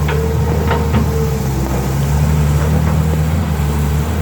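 Kobelco SK200-6 excavator with a Mitsubishi direct-injection engine, idling nearby in a steady, loud low rumble with a few faint knocks and clicks over it.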